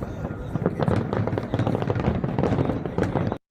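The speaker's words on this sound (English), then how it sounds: "You guys want to see some fireworks from DC last night?" Dense, continuous bursts of fireworks over Washington DC, played back from a recording, crackle and pop in rapid overlapping volleys, loud and sustained before cutting off abruptly.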